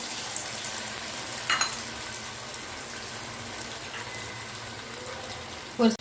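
Grated ginger and cumin fry in hot oil for restaurant-style paneer pasanda, giving a continuous close crackling sizzle with a few clinks of a spoon on the pan and a sharp knock near the end.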